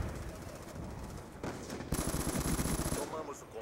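Rapid automatic gunfire crackles in a shooting video game, bursts of machine-gun fire layered over constant background noise and a faint voice, with a louder, denser volley near the end.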